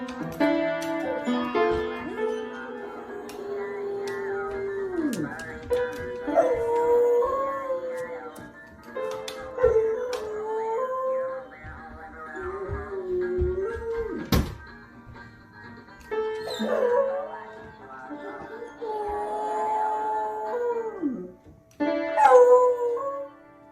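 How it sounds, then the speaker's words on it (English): A dog howls and whimpers in long, wavering, rising and falling tones while piano notes are struck now and then, with thumps and key plinks breaking through between howls over roughly twenty seconds. "Let's deal with the dog that plays piano."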